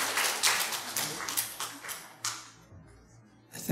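Brief round of hand clapping at a church Sunday school graduation ceremony, a cluster of claps that thins out and fades to near quiet before a final burst.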